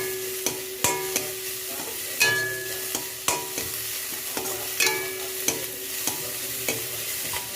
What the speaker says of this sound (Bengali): এটাকে খুব ভালো করে পেঁয়াজটাকে ব্রাউন ব্রাউন করে ভেজে নেব